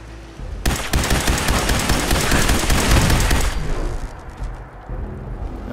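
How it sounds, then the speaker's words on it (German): Sustained machine gun fire from the video game Fallout 4, a dense rapid burst lasting about three seconds, loud and close, then tailing off into quieter ambient game sound with no talking. "Hier ist noch ein kleines Bum-Bum-MG ums Eck."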